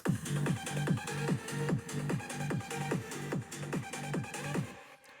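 A looping percussion groove with dropping, tom-like hits and busy hi-hats repeats at a steady fast rhythm in a big room EDM track, fairly loud, ending abruptly.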